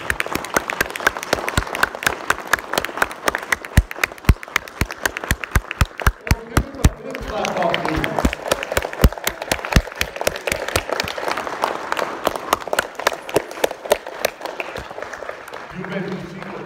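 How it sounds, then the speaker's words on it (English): A congregation at a memorial service claps together in a long, loud run of rhythmic, sharp claps that swells into a dense ovation midway, with voices calling out over it. "I want you to give the Lord a great big clap offering for Brother DeHerrera"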